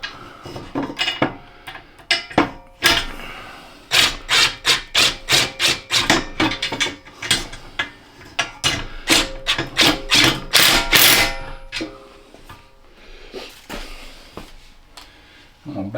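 An impact wrench tightens bolts on a welding cart with a rapid series of loud hammering bursts, running in rhythmic clusters up close before easing off.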